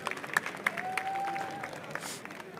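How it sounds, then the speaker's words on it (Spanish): A group clapping for contestants at a recycling and building competition, scattered claps with a few sharp nearby hits, a thin whistle-like tone, and a soft crowd murmur beneath, moderately quiet. "un aplauso para el grupo"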